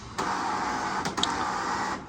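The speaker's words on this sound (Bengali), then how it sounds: "এটা হচ্ছে যে টাকার মেশিন" A money counting machine on a shop counter whirs steadily for about two seconds, with a couple of brief flutters partway through.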